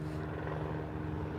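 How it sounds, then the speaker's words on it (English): A helicopter passes overhead with a continuous, heavy rotor drone and a low pulsing thump, loud and steady throughout with no other sounds. "That is a helicopter."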